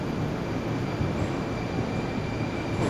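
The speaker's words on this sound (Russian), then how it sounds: "Смотрим, как отправится поезд в сторону Нагорной." A Moscow train departs Nizhnie Kotly railway platform toward Nagornaya, giving off a steady, close rumble of wheels and carriages that holds even throughout, with no voices.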